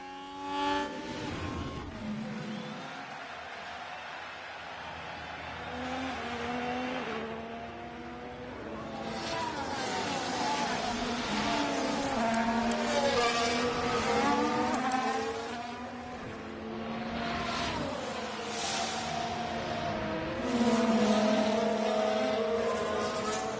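Formula 1 cars race and overtake around the Las Vegas circuit in the F1 Manager 24 video game, with engines whining and rising in pitch as they pass close by over a steady, continuous roar.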